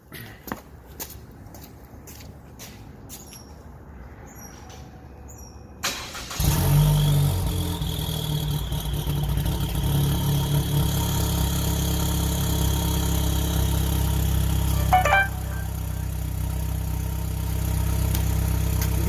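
A Chevy Cruze 1.4T Gen1 with a ZZP downpipe and mid pipe starts up after some quiet footsteps, then settles into a loud, steady idle with a deep exhaust rumble close by.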